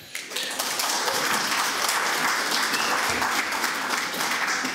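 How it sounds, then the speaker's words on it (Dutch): A debate audience breaks into warm applause welcoming two politicians, dense even clapping swelling quickly and holding steady in a reverberant hall. "Geef ze ook een warm applaus"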